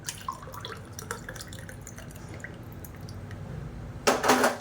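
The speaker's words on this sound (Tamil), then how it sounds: "இப்போ ஒரு கிளாஸில் ஊற்றிடலாம்." Thick millet porridge (kambu koozh) poured into a glass, a short, close, splashy pour near the end after quiet kitchen background.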